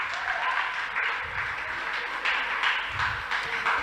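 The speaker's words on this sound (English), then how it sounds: "Clap for her, please." Audience members clap at a school debate contest between two academies, a brief steady round of applause at moderate distance, with a few voices faintly underneath.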